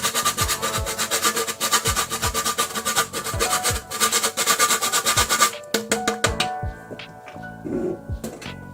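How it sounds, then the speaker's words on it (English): Spice grated by hand into Jamaican green plantain porridge, a close, loud, rapid rasping of repeated rubbing strokes that turns sparser and lighter near the end, with no talking. "I'll just grate just a small amount, about a teaspoon, into the porridge"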